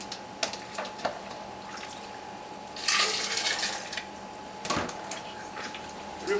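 Soaking water is poured off beans in a home kitchen, a faint trickle swelling into a louder gush midway and then tapering, with a few light knocks and a steady tonal hum in the background.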